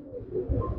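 A single large pigeon gives a brief, close, low throaty coo, a soft rolling murmur lasting under a second.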